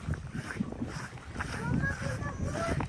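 Wind gusting across an open area, buffeting the microphone in uneven surges with faint voices in the background.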